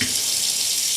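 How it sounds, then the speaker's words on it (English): A kitchen tap runs steadily while hands are washed during cooking, a close, even hiss of flowing water lasting about a second. "as I wash my hands."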